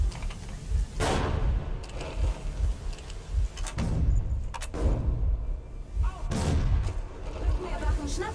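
Gunfire in the first-person shooter Metro Exodus, sharp repeated shots in irregular bursts with keyboard and mouse clatter, under someone speaking German.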